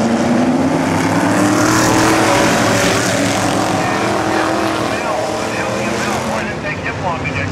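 Vintage stock cars of the Mid-State Vintage Stock Car Club roar off the start of a night race at Glenridge, a loud dense wall of engine noise with rising whines as the field accelerates past.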